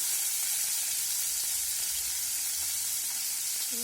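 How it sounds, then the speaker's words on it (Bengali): Chicken pieces frying in oil in a pan for chicken roast, giving a steady, even sizzle that holds for the whole stretch with no voices over it. "প্রথমে আমি চিকেনগুলো একটু ভেজে নিব"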